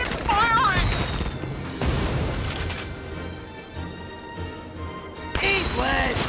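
Bursts of gunfire and booms in the Valkyria Chronicles 4 battle, heard under and between shouted voices, with a quieter stretch of mechanical rumble in the middle.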